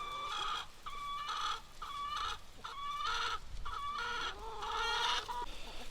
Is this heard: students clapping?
no